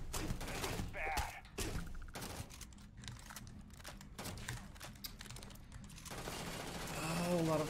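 An enemy firing a Maelstrom gun in a Bethesda video game, rapid bursts of clattering gunfire in clustered volleys, with other game sounds and a swelling rumble near the end.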